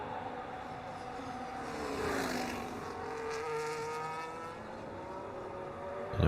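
Racing cars on a flying lap in a racing game hold a steady, moderate engine whine with rising and falling harmonic tones as they accelerate, continuous and without speech.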